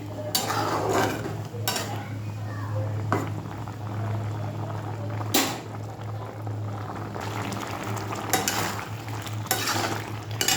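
Poppy seed paste fries in a pan, a steady bubbling simmer broken by sharp scraping and clanking stirs of a spoon against the pan, with no speech.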